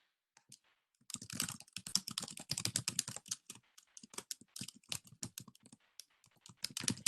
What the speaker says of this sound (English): As you hear me typing, I'm just throwing my email in the chat